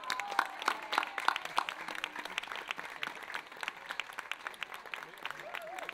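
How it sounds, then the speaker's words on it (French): An audience claps for a choir at an Assumption celebration in a chapel, scattered individual claps audible within a moderate, uneven applause, with a brief voice at the start. "Je propose qu'on les applaudisse encore bien fort."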